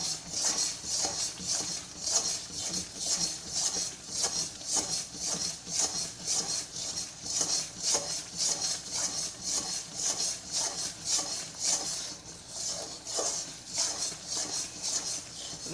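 A spatula stirs thick Mysorepak mixture in a pan, making close, rhythmic scraping strokes about twice a second that repeat steadily throughout, with no speech.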